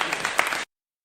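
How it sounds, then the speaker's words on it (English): An audience at a queer tribute night at Islington Mill applauds in a brief burst of clapping that cuts off abruptly after about half a second. "another round of applause then, please"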